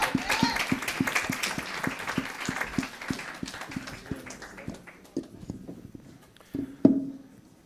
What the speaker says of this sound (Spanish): en que pedimos un fuerte aplauso